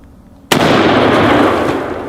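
A .375 H&H Magnum rifle fires a single shot outdoors, a sharp, very loud, close crack followed by a long rolling echo that slowly fades.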